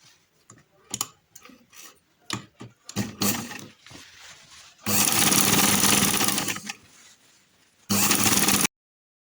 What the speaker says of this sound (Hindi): हम एहतियातन पांचे की तरफ से सिलाई लगाते हैं